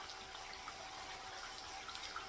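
A power sluice used for gold prospecting at a Wisconsin creek runs water with a steady, even rushing flow and no pauses, heard close by with no talking.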